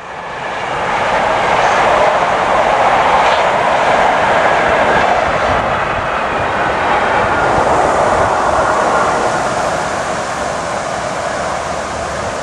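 A long train rumbles past loudly and steadily in Ipswich, a steam locomotive hauled by a Class 60 diesel, a broad roar of wheels and engine that swells and then slowly eases off.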